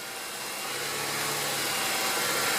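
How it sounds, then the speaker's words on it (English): A steady, low engine drone from a Honda 2.4L engine idling poorly with a faulty idle air control valve, with a faint hum and broadband hiss, gradually growing slightly louder, with no talking. "I'll start the engine."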